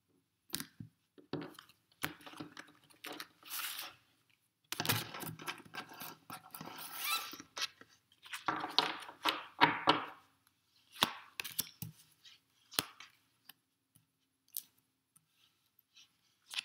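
A deck of angel oracle cards being cut and shuffled by hand, with close, intermittent riffling, snapping and papery rustling bursts separated by short pauses.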